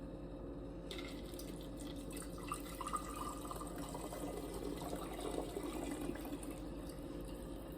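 Hot herbal liquid of sage, rosemary and nettle pours into a large jar, a faint, steady trickling and gurgling of water that continues throughout without talk.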